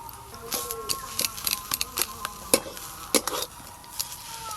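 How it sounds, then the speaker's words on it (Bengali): A spoon clinks and scrapes through potato paratha filling in a pan, in irregular close taps and clacks over a faint low sizzle, with no talking. "এই যে তুমি আলুর পুরটা মেশাচ্ছ হ্যাঁ"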